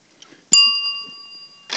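A fire alarm adapter bell gives one bright electronic ding with a clear ringing tone that holds for over a second before it fades, close and alone in a quiet room, followed by a brief rustle.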